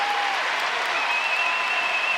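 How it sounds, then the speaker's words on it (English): Steady, sustained applause from an arena crowd at a judo match, a women's -48 kg final block at the Paris Grand Slam, filling the clip evenly with dense clapping and no voices standing out. "Well, the crowd's certainly enjoying this."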